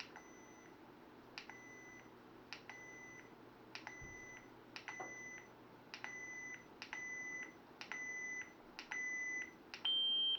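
A lightsaber's Proffie soundboard gives a series of about nine short electronic beeps at steady intervals while its volume menu is adjusted, each tone slightly longer, ending in a long held beep; quiet, close, with no talking.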